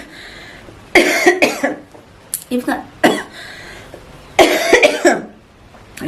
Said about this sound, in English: I'm having this cough that is disturbing me